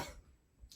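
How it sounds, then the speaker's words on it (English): A single person's cough, close and fairly quiet, with a brief burst at the start and low rumble trailing after, no talking. "I had to cough."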